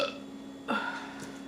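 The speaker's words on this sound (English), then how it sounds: "Oh my god, I feel another burp coming on." A single long, loud burp rises after fruit eating, close to the microphone and standing alone without talk, trailing off over a faint background hum.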